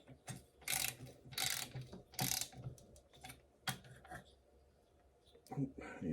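A ratchet tightens bolts on a Polaris 488 fan in a crisscross pattern, with several close bursts of rapid clicking separated by short pauses.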